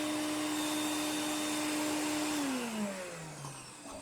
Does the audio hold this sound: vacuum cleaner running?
yes